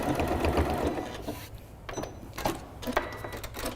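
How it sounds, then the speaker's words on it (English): A sewing machine top-stitches a Bomb Pop popsicle-themed zipper pouch closed, whirring steadily at first and then running in shorter, stop-and-start bursts, close and alone. "You're just top stitching it closed."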